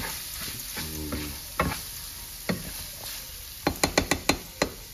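Hamburger meat and rice being stirred in a pan for a one-pan dinner, with soft sizzling underneath and a run of sharp spoon knocks against the pan toward the end, with no talk.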